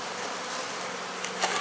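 Honey bees buzzing steadily at a hive being fed from the top, a close, continuous drone with a few louder passes near the end, no talking.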